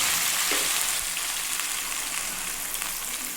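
Fried spice mix dropped into hot oil with black cumin and dried red chillies bursts into a loud, steady crackling sizzle that continues close up, with no talk.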